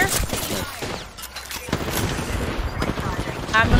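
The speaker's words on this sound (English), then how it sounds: "I'm shooting Seer" Rapid video game gunfire during a ranked Apex Legends match, bursts of shots crackling on and off under steady voice chat from players.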